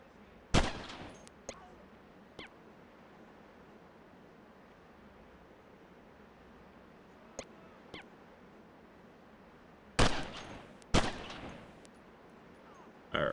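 Gunfire in the video game Delta Force Task Force Dagger crackles as scattered single shots and short bursts, sharp but fairly faint against a quiet background, with a denser cluster near the end.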